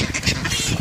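A duck gives a short burst of quacking squawks, loud and close, lasting under a second. Gulls may be somewhere nearby.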